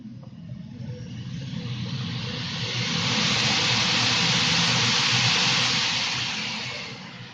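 A Swiwin model jet turbine engine spools up, its steady whooshing roar and whine building gradually to a loud, sustained peak before easing slightly, heard up close and alone.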